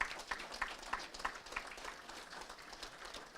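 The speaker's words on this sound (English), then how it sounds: "Tony, a round of applause." Scattered clapping from a modest crowd at a football league awards night, honouring a named official, soft and fairly distant with a few sharper claps early before thinning out.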